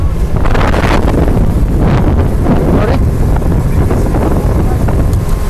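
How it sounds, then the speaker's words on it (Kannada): Strong wind roars across the microphone during a private boat ride, a dense, steady rush with a low engine-and-water rumble underneath, loud and close throughout with a few brief gust swells. "private boat journey"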